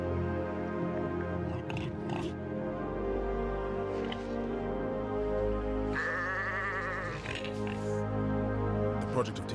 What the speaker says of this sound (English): The sheep wake in the morning.